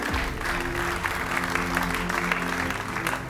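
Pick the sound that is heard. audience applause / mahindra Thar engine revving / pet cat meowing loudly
audience applause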